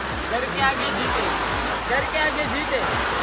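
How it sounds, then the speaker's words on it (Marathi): Loud rushing water near Dronagiri fort roars continuously and close by, nearly drowning out people talking underneath it. "कारण पाण्याचा आवाज खूप जास्त आहे"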